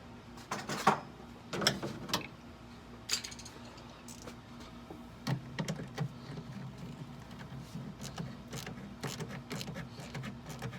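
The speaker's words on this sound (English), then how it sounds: "Now we'll finish tightening these 2 clamps up." Hose clamps being tightened on an S&B cold air intake in the engine bay of a 2016 Toyota Tundra Platinum: close metallic clicks, ratcheting and scraping in irregular bursts over a low background hum, with no talking.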